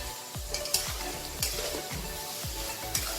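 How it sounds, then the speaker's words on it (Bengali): Vegetables for fried rice fry in a hot pan with a steady, close sizzle, while a spatula scrapes and stirs at a regular rhythm of about one stroke every half second. "এবার একটু সবজিগুলো ভাজা, একটু হালকা লাল ভাজা ভাজা হয়ে যাওয়ার পরে"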